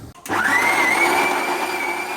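A kitchen blender runs continuously as it mixes a smoothie with ice, starting abruptly after a brief quiet moment and holding a loud, steady whirring whine with a rising motor pitch.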